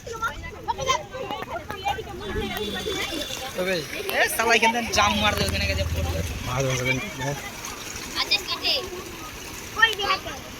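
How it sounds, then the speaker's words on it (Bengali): Fast-flowing floodwater rushes through a village, a steady watery wash with splashy bursts, with talk and children's voices over it. "দেখো বন্ধু, এখানে কত স্পিডে জল যাচ্ছে"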